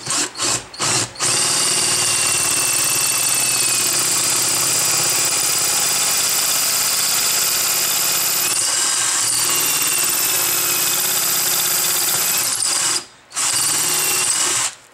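A power drill drilling into a Volvo brake caliper with a drill jig whines at high speed in long sustained runs, starting with a few short bursts and pausing briefly near the end.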